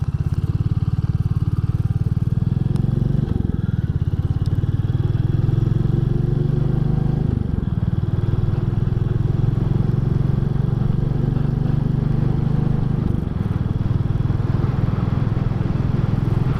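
A 2022 Royal Enfield 350 Classic ridden on a road, a loud continuous low engine thrum with heavy wind rumble, steady throughout with slight shifts in pitch as the bike travels.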